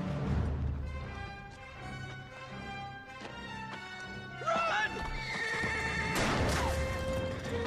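A horse whinnies loudly several times amid galloping clip-clop hooves in the western video game Gun, with game music and effects layered around it.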